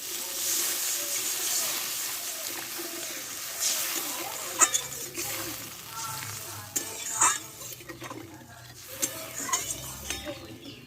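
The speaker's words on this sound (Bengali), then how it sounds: "আমি এবার একটু জল দিয়ে দেবো" Potatoes frying in oil in a pan as water is poured in, giving a steady sizzle with stirring and utensil clinks scattered over roughly eleven seconds, with no talking.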